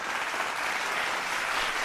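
A soundboard clapping effect plays a steady burst of applause-like clapping, even and moderately quiet, with no voices over it.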